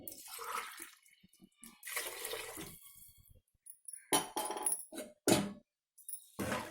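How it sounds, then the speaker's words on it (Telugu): Water from glasses is poured into a pot of chicken kofta biryani in a kitchen, with splashing pours and soft clinks coming in several separate bursts. "3 గ్లాసుల వాటర్ అయితే సరిపోతుంది"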